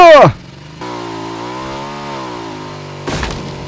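A three-wheeled motorcycle engine in PUBG revs up and holds a steady droning whine, loud and close, with a brief rougher burst near the end.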